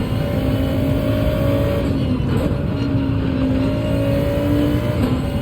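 An Audi RS5 Turbo DTM race car in Gran Turismo 7 on the Nürburgring accelerates hard, a loud steady engine drone with rising tones as it pulls through the gears, constant and close.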